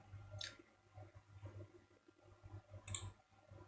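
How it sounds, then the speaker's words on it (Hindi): Computer mouse clicking on a web link: two short, faint clicks spaced a few seconds apart over quiet room hum. "फर्स्ट लिंक पर क्लिक कीजिए।"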